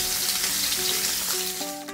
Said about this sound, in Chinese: 将排骨煎到金黄金黄就可以了